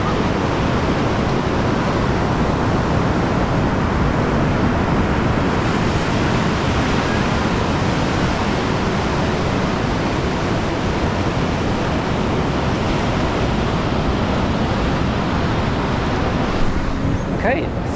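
Surf on Kata Beach in Phuket rolls in a constant, loud wash of broken waves, with wind buffeting the microphone throughout.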